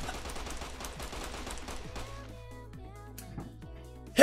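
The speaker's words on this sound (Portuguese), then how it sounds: "É tiro." Rapid, continuous gunfire rattles for a couple of seconds in a Roblox cat game, then gives way to a steady electronic tone, ending in a sharp burst.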